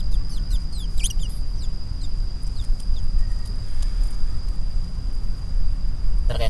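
Quail call out before being fed, giving a quick run of sharp, high chirps in the first second or so. Quieter calls follow over a steady background hum, and a brief click comes near the end.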